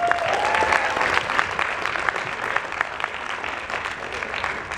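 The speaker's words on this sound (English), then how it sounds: "give them a round of applause again" An audience at an acting workshop claps, with a burst of loud, dense applause that stays strong and then gradually thins out.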